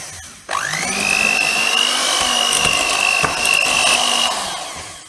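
An electric mixer whirs loudly and steadily at close range as it whips pastry cream with chantilly cream for mille-feuille, its motor pitch settling after a sudden start.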